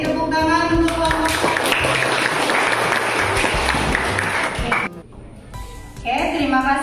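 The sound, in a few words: classroom applause for a group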